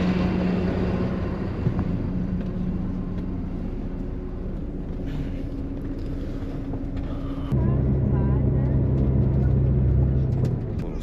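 Old Belarusian bus driving, a steady low engine drone and road rumble heard from inside the cabin, with a shift in engine tone partway through and no clear talk.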